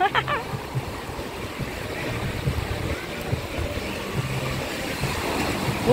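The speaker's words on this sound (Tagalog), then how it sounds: "Lakas ng alon." Strong sea waves at a beach in Jawili, Aklan, Philippines: steady, rumbling surf roars continuously, waves churning close by, with scattered voices faintly mixed into the wash.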